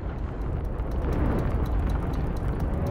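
Explosions in the video game It Takes Two: a sustained, heavy low rumble and roar that builds and holds steady, with scattered sharper crackles on top and no voices.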